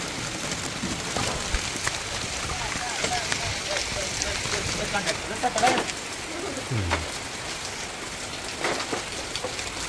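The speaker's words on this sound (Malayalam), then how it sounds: "നല്ല രീതിയിൽ വെള്ളം വീഴുന്നുണ്ട്" Heavy monsoon rain pours off roof tiles in a dense, steady patter and splash close by, with bird calls and muffled voices mixed into the downpour.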